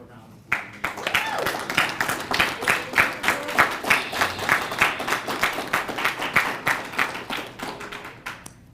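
Sustained applause from a crowd at a US Navy retirement ceremony, dense rapid clapping that swells and holds steady, with some voices mixed in beneath.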